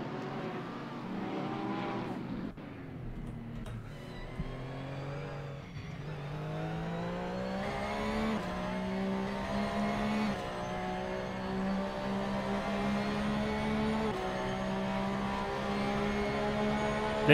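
A Porsche race car engine in a sim racing game at Barcelona-Catalunya drones loud and close, its pitch climbing steadily through each gear, then dipping at the shifts before revving up again.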